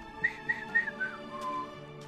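A person whistles a short rising-and-falling little tune, imitating a sound from Minecraft: four quick bright notes and then a softer trailing phrase, close and clear with no talking.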